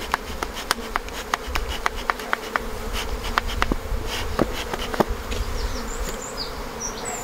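A dense swarm of honeybees buzzes loudly and continuously close by around a hive during queen-rearing grafting, with scattered sharp taps and clicks breaking through the drone.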